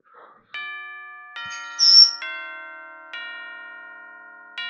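Ding-dong bell chimes in the video game Fashioning Little Miss Lonesome: a series of clear, tonal chime notes struck one after another at a steady pace, each ringing out and decaying, with a brief bright shimmer partway through.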